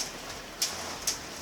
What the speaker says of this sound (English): We're having a hailstorm outside.